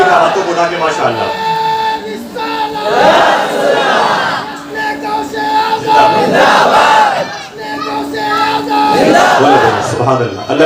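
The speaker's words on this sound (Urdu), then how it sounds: "اللہ میرے بھائیوں کی آوازوں کو بلند فرمائے جو نعرے لگا رہے ہیں اور جو نعرے کا جواب دے رہے ہیں" A large devotional gathering at an Islamic religious talk chants slogans and answers them in loud, repeated waves, crowd voices swelling in unison several times.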